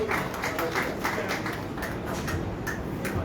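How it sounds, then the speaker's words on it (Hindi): Crowd applause at a tournament prize distribution ceremony, a steady wash of clapping with some voices mixed in throughout. "खूब सारी तालियां।"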